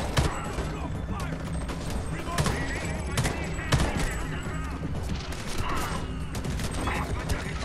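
Gunfire from the video game Homefront: The Revolution, loud bursts of shots and rapid volleys over a dense combat din, with hard impacts recurring throughout.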